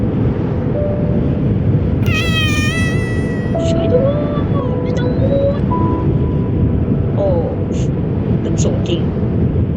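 A cat meows in the video game Only Way is Down, a few high, clear meows over a loud, constant low wind-like rumble. There is no talk.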